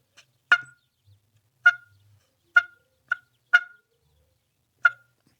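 A turkey call imitates a hen's cluck: six short, sharp, isolated pops spaced irregularly over a few seconds, close and clear against silence, with no talking.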